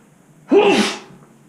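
A single loud, close sneeze, a sharp burst that trails off within half a second, surrounded by quiet.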